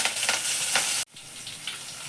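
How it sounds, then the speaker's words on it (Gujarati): Cumin seeds and asafoetida tempering in hot oil for a dhaba-style sev tameta curry, giving a steady, close hiss of sizzling that cuts out abruptly for a moment and then resumes more quietly. "એટલું જીરું વઘાર નાખી દઈએ."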